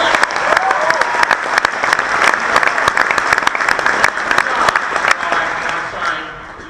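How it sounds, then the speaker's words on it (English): Theatre audience at an evening science lecture in Sydney's Capitol Theatre applauding warmly, a dense crackle of close and distant hand claps that stays loud for several seconds and then fades out. "Give him a round of applause."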